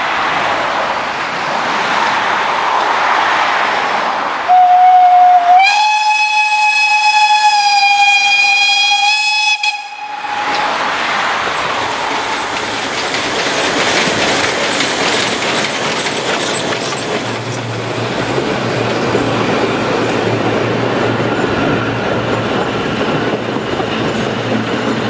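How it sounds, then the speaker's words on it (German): A narrow-gauge steam train passing through the small request halt Klosterheide: a loud sustained steam whistle blast rising in pitch, then hissing steam and the rumble and clatter of the train rolling past nearby. "Von fast jedem Zug, wie hier auch, wird der kleine Bedarfshaltepunkt Klosterheide durchfahren."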